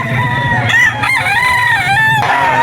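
A rooster crows loudly and close by at a pet market, one long wavering crow with harmonics running through most of the moment, with crowd noise underneath.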